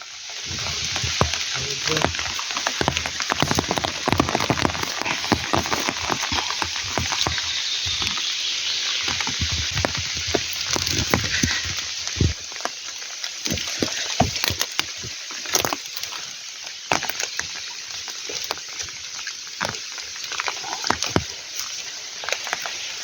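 Steady rain pattering through a forest on a June day, a dense hiss with scattered close drops and taps continuing throughout, recorded on a walk in the woods with a dog while mushroom hunting.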